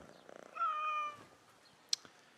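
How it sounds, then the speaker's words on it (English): A single drawn-out cat meow from a video game, Assassin's Creed Mirage, as the cat is petted, fairly quiet and short, followed by a faint click, with no talking over it. "I do, however, want to pat this cat, this anatomically problematic cat."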